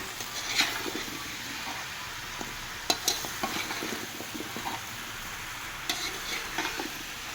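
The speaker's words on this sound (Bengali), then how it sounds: "এখন ওলটা খুব সুন্দর করে কষিয়ে নেবো" Elephant foot yam sautéing in a pan makes a continuous busy sizzle, with frequent spatula scrapes and knocks and a few sharper clatters, close up and with no voices.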